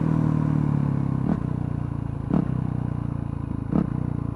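Motorcycle riding at steady engine drone while performing clutchless downshifts, three brief blips interrupting the hum at uneven intervals, continuous and fairly loud throughout.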